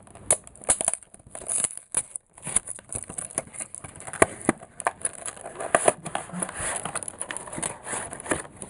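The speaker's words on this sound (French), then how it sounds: "Donc je vais déballer tout ça et on va voir ce qui se trouve à l'intérieur." Cardboard and plastic rustle, tear and click close up as a Magic: The Gathering Duel Deck, Jace vs Vraska, is opened, irregular crinkles and snaps with no voice over them.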